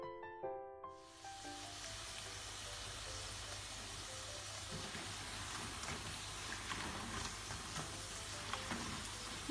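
Chicken meatballs deep frying in hot oil give a steady, dense sizzle that carries on without pause, after a few short tonal notes at the very start.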